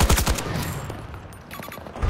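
Rapid automatic gunfire in the shooter game Battlefield 2042, a loud burst of closely spaced shots at the start, then a brief lull and another short volley near the end.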